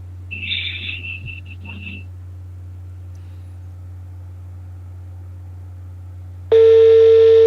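A steady telephone line tone comes through a Thai radio broadcast, a low constant hum beneath a brief burst of high chirping, followed by a loud sustained tone that cuts in abruptly near the end.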